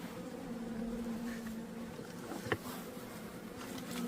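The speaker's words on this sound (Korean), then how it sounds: "벌통 안에서는 여전히 꿀벌들이 쉬지 않고 일을 하고 있네요." Honeybees work inside a hive on a rainy spring day, giving a steady close droning hum with a brief faint tap partway through.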